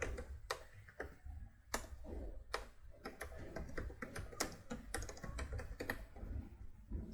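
Text typed on a computer keyboard into an online sentence-count tool: a quick, irregular run of crisp key clicks and taps, close and moderately quiet, with no talking.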